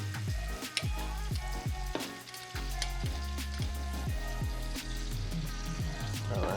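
Shrimp and garlic cloves fry in a pan with a close, busy sizzle and crackle, broken by sharp pops and a few stirring knocks, steady throughout with no talk.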